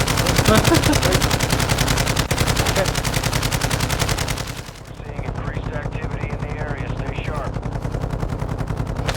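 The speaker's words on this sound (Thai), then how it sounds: "เคยิงอะไรวะยิงศพเหรอ" Rapid automatic gunfire and shotgun blasts in Call of Duty Warzone 2.0 DMZ mode, loud and sustained with a brief dip midway, mixed with game sounds and faint background voices.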